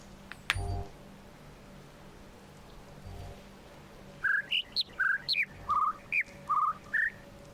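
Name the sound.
bird sounds from the video game The Witness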